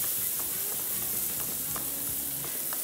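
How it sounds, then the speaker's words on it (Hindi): Onion and garlic sizzle in a frying pan as the base of a sauce, an even close hiss with a few soft stirring taps over under three seconds. "सॉस के लिए प्याज और लहसुन को थोड़ा सा फ्राई किया"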